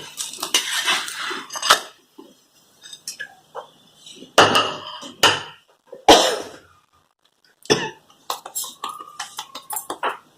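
Thalipeeth flatbread lifted off a hot pan onto a plate, with sharp metallic scrapes and clinks of utensil against cookware in separate bursts, close and fairly loud, with gaps of quiet between.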